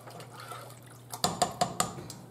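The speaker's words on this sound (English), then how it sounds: "Give that a stir." A spoon stirs beef and vegetable soup in a pot, with liquid sloshing, then four distinct clinks of metal against the pot in quick succession, close and fairly loud.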